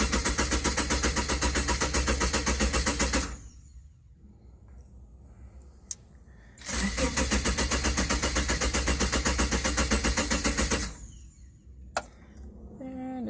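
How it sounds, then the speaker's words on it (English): A Subaru engine cranks rhythmically without catching, two long bouts of the starter whirring separated by a quiet pause with a click. "I'm just gonna start it to see if timing's alright"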